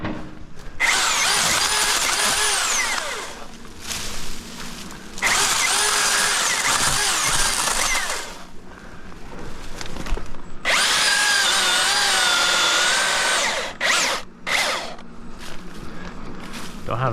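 Brand-new Milwaukee battery-powered chainsaw with a new factory chain cutting standing timber, loud whining bursts of several seconds each separated by quiet pauses, with a few shorter revs near the end.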